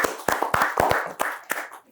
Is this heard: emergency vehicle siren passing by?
no